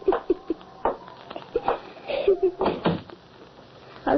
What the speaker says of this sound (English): Herman, close the door